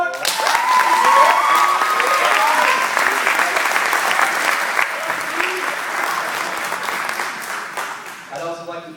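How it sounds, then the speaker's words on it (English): Loud audience applause for program graduates at a ceremony, dense and continuous at first, gradually thinning toward the end, with some voices faintly audible underneath. "so if we can get a quick round of applause"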